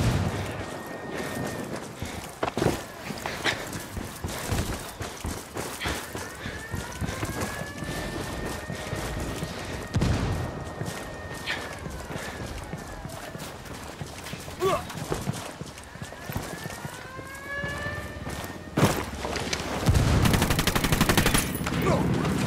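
Rapid bursts of automatic gunfire and scattered single shots ring out in the Ghost Recon Wildlands video game, forming a dense, continuous firefight, loud and close, with brief shouted voices over the combat.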